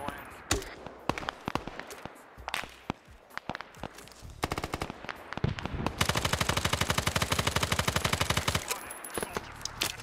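A machine gun in a Vietnam-era video game fires in scattered bursts, then one long sustained rapid string of shots, loud and close with distant gunfire around.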